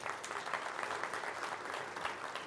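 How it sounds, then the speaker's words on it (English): Conference audience applauding at a SQL Server talk, a steady dense wash of many hands clapping throughout, with no voices above it. "Give yourself a round of applause."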